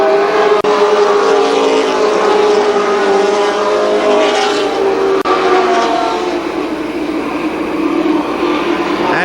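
Race cars roar around a short track speedway in a Columbus Motor Speedway super late model feature, loud, close and sustained engine drone that swells and shifts as the field passes.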